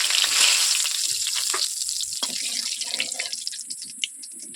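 Two bay leaves and two small cardamoms hit hot mustard oil in a kadai, sending up a bright, hissing sizzle that is loud at first, then gradually fades and thins, with a few faint crackles near the end.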